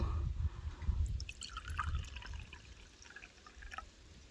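Water poured from a jar into a cup holding leftover salt while pickling tomatoes, giving a close trickling, dripping pour that is heaviest in the first two seconds and then thins to scattered drips.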